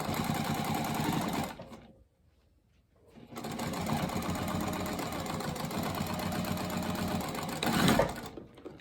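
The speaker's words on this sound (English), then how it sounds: "now I'm just going to stitch at a 1/4 inch seam allowance all the way down" A sewing machine runs steadily while stitching a quarter-inch seam on fabric for a scrappy pouch, a fast mechanical whir that stops for about a second and then resumes, ending with a louder burst.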